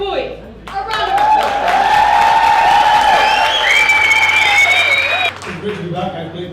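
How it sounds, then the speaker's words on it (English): A concert audience applauds performers Aaron Reboy and Crystal, with a wash of clapping and some cheering under a prominent voice and tonal sounds, fading out near the end. "A round of applause for Aaron Reboy and Crystal."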